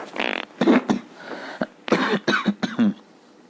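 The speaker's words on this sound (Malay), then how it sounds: "Minta maaf batuk sikit bukan batuk corona" A run of several coughs in quick bursts, close and fairly loud, separated by brief pauses.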